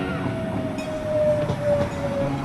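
Metro train at a Buenos Aires station on the northern line toward Tigre, heard as a steady rumble of railcars with a thin, sustained wheel squeal running through the middle, close and continuous with no talk.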